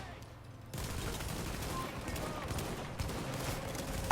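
Gunfire in The Division crackles as a continuous fusillade of shots in the background, starting abruptly and running steadily beneath someone talking.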